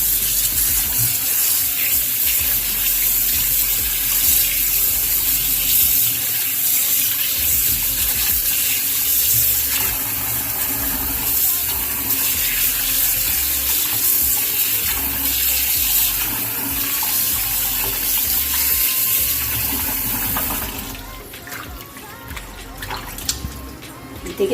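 A kitchen tap runs continuously as raw meat is rinsed under it for a Haitian-style salad, giving a loud, steady splashing flow that shifts to a sparser, trickling wash near the end.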